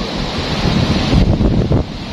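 Ocean waves breaking against a rocky shore at a fishing campsite, a loud continuous wash of surf with wind buffeting the microphone and a swelling surge near the middle.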